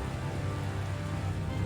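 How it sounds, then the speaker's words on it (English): Steady rainfall in the Tales of Xillia video game, a dense, even hiss that fills the background without pause. "It's starting to rain."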